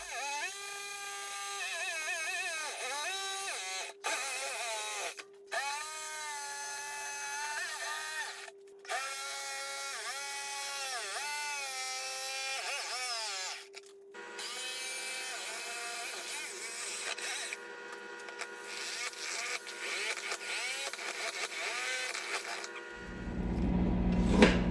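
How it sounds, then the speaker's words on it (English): An electric jigsaw cuts a piece from a motorcycle part during exhaust modifications, its whining motor running in several loud bursts separated by brief stops, the pitch wavering as the blade bites, with a person talking at times. "I'm going to get my jigsaw and I'm going to cut this out now"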